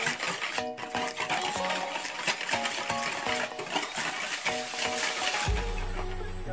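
Pancake batter is mixed in a bowl, making a quiet, fast, rhythmic tapping and scraping that runs throughout, with a faint steady tone behind it.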